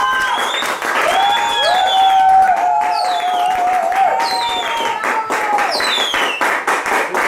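A packed hall applauds and cheers to welcome a storyteller on stage, a thick, continuous roar of clapping with whoops and whistles rising over it, loud and close.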